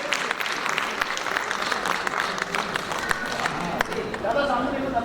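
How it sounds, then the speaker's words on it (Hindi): Audience applause at a Hindi literary award ceremony, steady moderate clapping from a hall crowd lasting several seconds with a voice faintly under it. "तालियों के साथ हम अभिवादन करेंगे।"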